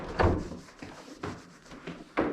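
A hidden door in the back wall of a firewood closet in an old Salem house is pulled open, giving a few muffled wooden knocks and scrapes, close and moderately loud, with no talking.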